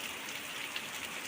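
Heavy rain falls steadily, a fairly faint, even hiss of drops striking surfaces with small scattered patters and no voices.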